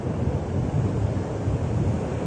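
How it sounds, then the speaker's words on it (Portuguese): Water pours down the São Francisco river transposition canal near the Jati dam in Ceará, a steady, dense rushing roar mixed with wind buffeting the microphone. "E aqui as águas descendo."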